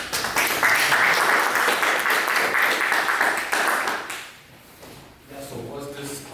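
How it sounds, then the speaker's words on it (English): Audience applause at a game developers' association talk, a dense, loud burst of clapping lasting about four seconds before it thins out, with voices taking over near the end. "First applause."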